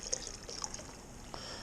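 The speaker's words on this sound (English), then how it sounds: "I normally pour this over a spoon, not to screw up the grain bed" Brewing water poured slowly over a spoon onto the grain bed of a pale ale mash, a faint, soft trickle with light splashy drips, quiet and close, alone without talk.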